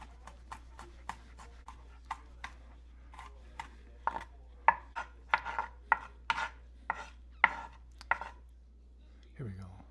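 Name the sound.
mincing garlic with a knife on a board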